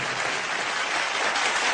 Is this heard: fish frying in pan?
no